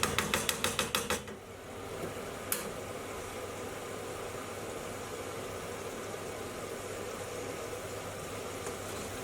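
A utensil quickly scrapes and clinks against the pan edges, pushing a chicken Madras curry back in, then settles into a steady, close sizzle.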